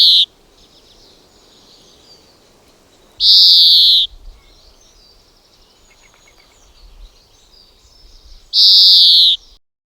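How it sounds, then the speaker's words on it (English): A greenfinch sings at a UK smallholding during the dawn chorus: three loud, wheezy, drawn-out calls, each under a second, spaced several seconds apart and close by, over a faint bed of distant birdsong. "But take a listen to the greenfinch."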